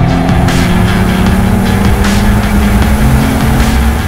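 A BMW M135i with a 3-litre twin-turbo six-cylinder engine accelerates hard, giving a loud, steady, close engine roar that holds its intensity throughout with no talking.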